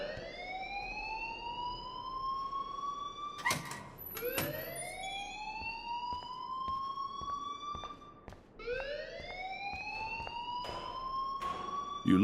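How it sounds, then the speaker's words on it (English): An alarm wails in Life Is Strange, sweeping upward again and again in long rising tones like a siren, three cycles in a row over a faint background. "please turn off that alarm since that's your job"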